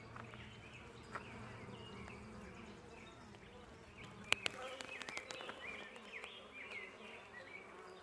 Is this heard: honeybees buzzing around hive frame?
yes